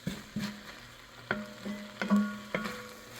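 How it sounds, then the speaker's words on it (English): Garlic cooks for chili in a pan, making a soft, low sizzle broken by several sharp scrapes and clanks as a utensil stirs it. "just going to cook this a smidge with the garlic"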